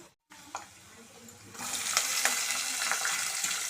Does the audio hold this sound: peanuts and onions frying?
yes